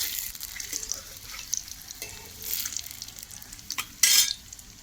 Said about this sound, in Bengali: আস্তে আস্তে নাড়তে হবে।